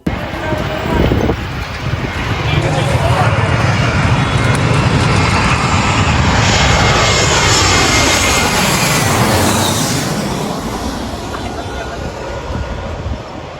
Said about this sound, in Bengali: ভাই যেই পরিমাণ বিমানের সাউন্ড